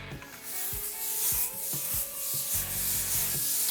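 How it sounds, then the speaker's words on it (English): Scrubbing the first coat of a PERMAGUARD moisture seal and concrete densifier into a concrete floor: repeated rough brushing strokes in an uneven rhythm, close and fairly loud, with no talking. "We're going to put down the first coat, and we'll scrub it in lightly."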